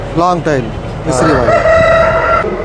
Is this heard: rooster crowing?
yes